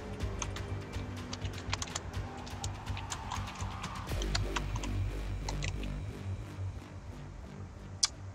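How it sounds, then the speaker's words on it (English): Typing on a computer keyboard during PC Battlefield 4 beta gameplay: quick irregular clicking keystrokes run throughout over a low background hum from the game. "Come on, I was typing shit."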